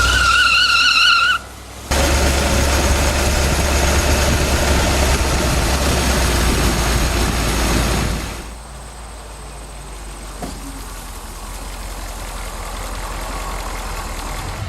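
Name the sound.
old Buick chassis car accelerating with rear wheels spinning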